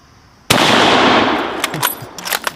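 A Mauser M1898 bolt-action rifle in 8mm fires one loud, sharp shot outdoors, followed by a long rolling echo that decays over about two seconds, with a few faint knocks afterward.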